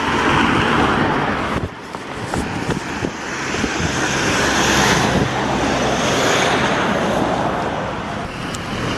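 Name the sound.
traffic on a busy road in the early morning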